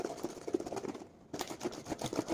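Coffee and water shaken hard in a closed container to whip up foam for iced coffee: close, rhythmic sloshing and rattling bursts with a brief pause midway before the shaking resumes.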